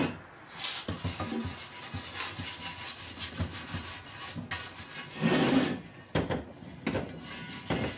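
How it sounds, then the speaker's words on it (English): Close, bristly scrubbing strokes of a brush working over a dirt bike frame, irregular bursts of rubbing separated by short pauses, with no voices. "Pick up the brush I dropped, and then we just scrub it a little."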